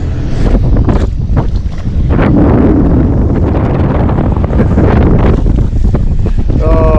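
Strong wind blowing on Lake Minnetonka during a bass fishing trip, loud buffeting gusts battering the microphone with a low rumble, while water sloshes against a boat.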